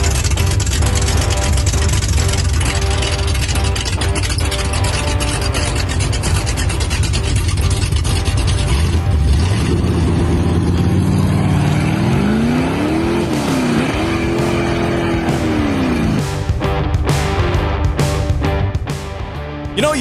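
A loud car engine roars and revs continuously, rising and falling in pitch with a brief tire squeal, close and dominant throughout.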